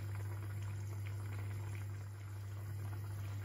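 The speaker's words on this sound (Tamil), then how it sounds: "குழம்பு நல்லா கொதிச்சிட்டுது." Tin fish curry simmering in a pot on the stove, a steady low bubbling that holds on evenly throughout with no talk over it.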